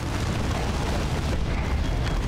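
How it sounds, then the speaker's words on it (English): Rumbling explosion in the Warhammer 40K strategy game Dawn of War 2 Chaos Rising, a dense, sustained low boom filling the whole stretch at steady loudness, with no voices over it. "Use explosives."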